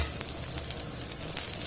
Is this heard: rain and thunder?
no